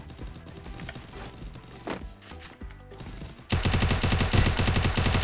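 Rapid bursts of video game gunfire erupt loudly in the second half, dense and sustained, after quieter game sounds and clicks.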